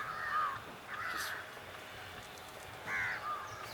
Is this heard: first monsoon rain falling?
no